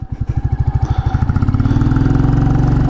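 A 2022 Royal Enfield Classic 350 BS6 single-cylinder motorcycle with its stock exhaust thumps in slow, even pulses at first, then the beat quickens and smooths into a steady, close, loud idle-to-rev drone, with no voices.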